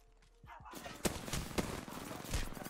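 Gunfire in an Apex Legends battle, several sharp shots and bursts cracking in quick succession from multiple directions over continuous noisy combat ambience.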